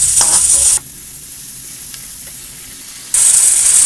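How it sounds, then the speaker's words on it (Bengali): Vegetables and green chili paste sizzle loudly in a hot pan while being stirred. A strong frying hiss dips quieter for a couple of seconds as the pan is moved, then surges back, with no talking. "এবার একটু হালকা নাড়াচাড়া করে আমি সবজিটায় জল ঢেলে দেবো"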